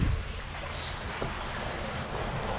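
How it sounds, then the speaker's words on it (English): Steady wind rushing over open water on a windy June day during kayak fishing, a constant broadband roar with mic buffeting, no voices. "It's windy today."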